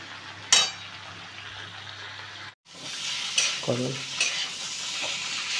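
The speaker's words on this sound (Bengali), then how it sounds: "ভালো করে নেড়ে নেব।" Fried shrimp are stirred into ash gourd greens in a pan, with soft scraping stirs and a low sizzle, a couple of sharper clanks of the utensil, and a brief pause midway.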